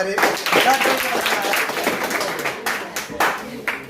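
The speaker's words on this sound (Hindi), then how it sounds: "तो ताली बजा देना चाहिए।" Students clap in a Hindi grammar classroom, a fairly loud, uneven burst of hand claps over about four seconds with some voices mixed in.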